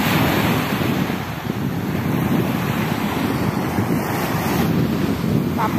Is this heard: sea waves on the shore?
yes